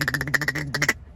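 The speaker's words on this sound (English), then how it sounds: "Go to Walmart, get a duck toy. You got your duck call already." A duck call taken out of a dog's squeaky toy and blown like a hunting call gives a rapid string of about eight close, loud, nasal quacks, alone.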